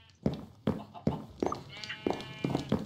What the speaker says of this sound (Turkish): koyunlarımız duruyor gördüğünüz gibi